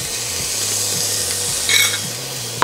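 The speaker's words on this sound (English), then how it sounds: "I'm gonna saute all these veggies and spices" Minced garlic, ginger, veggies and spices sautéing in a pan, a steady loud sizzle with stirring scrapes and a brief clatter near the end, close and without talk.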